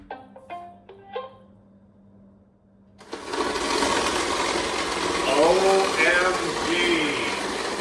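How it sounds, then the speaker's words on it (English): An iRobot Roomba S9 runs with noisy knock-off rubberized brushes, a loud continuous whirring drone with rattling and squeaky tones that starts suddenly after a few short electronic beeps. "Here's an S9 Roomba with some noisy non-iRobot brushes."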